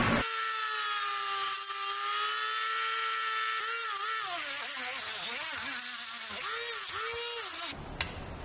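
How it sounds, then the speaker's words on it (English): A Dremel rotary tool cuts through a headlight bracket on a turbo M50 E30 during a smoked DEPO smiley headlight install, giving a close, steady high whine that wavers in pitch as it bites, then stops with a sharp click. "let me get that bracket cut off right there."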